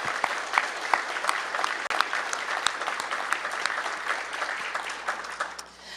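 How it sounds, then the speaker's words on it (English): Steady applause from an audience at a mayoral announcement of an open data initiative, with dense clapping and sharp individual claps throughout, tapering slightly at the end. "Give them a round of applause."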